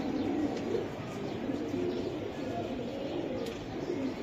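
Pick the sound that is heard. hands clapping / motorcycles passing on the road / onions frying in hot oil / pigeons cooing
pigeons cooing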